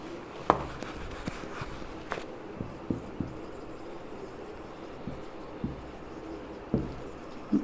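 Handwriting with a pen on paper: a soft, continuous scratch dotted with occasional light taps and knocks, close by, with no one speaking.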